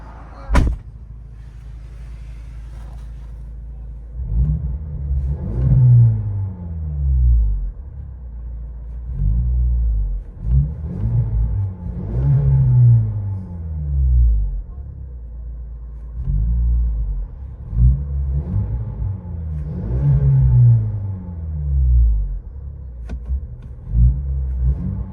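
A 2022 Ford Maverick with a 2.0 turbo engine and Magnaflow exhaust, its deep, loud exhaust rumble rising in repeated revs and settling back to idle, heard close up with little talk.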